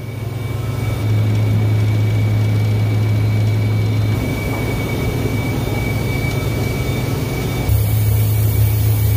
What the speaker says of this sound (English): This is where all the engines run before they actually ship them out to put them on mowers.